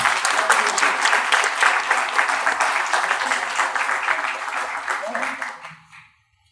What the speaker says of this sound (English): Can we have a big round of applause for Ganesh sir?